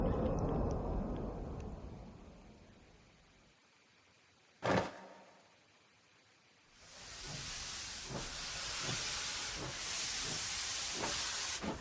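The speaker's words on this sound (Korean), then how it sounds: "말 그대로 기차 소리로군." A train sound effect from the video game Happy Saint Sheol: a sharp burst of steam hiss, then a rising rumble with regular rhythmic clacks of wheels on rails, moderately loud and with no voices.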